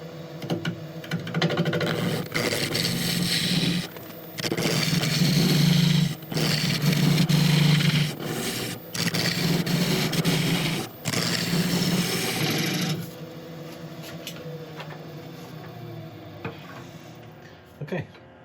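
A woodturning lathe hollows out a burl with a steady, rough scraping and cutting noise, broken by brief pauses. It stays close and fairly loud, with a low hum running underneath.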